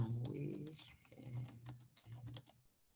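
Quick bursts of clicky key presses on a computer keyboard rattle close by, mixed with a voice talking during an online algebra lesson.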